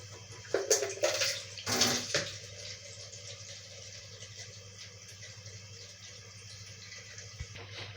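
Warmed water splashes into a pickle jar over packed cucumbers in a few quick pours early on, then gives way to a low steady room hum.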